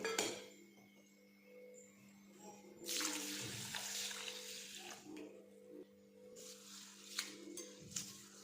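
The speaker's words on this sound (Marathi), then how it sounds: "आता आपल्याला या डाळी स्वच्छ धुवून घ्यायच्या आहेत" Water splashes and swishes in a bowl as chana dal is stirred and rinsed by hand, with a tap running in bursts and occasional light clinks.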